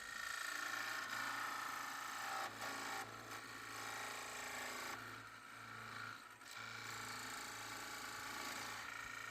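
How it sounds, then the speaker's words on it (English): A parting tool turns down a wooden dining room chair foot on a lathe, giving a steady, close rasping scrape that runs the whole time with a few brief dips in intensity. "Back to using the calipers and a parting tool just to get this down to the dimension I need."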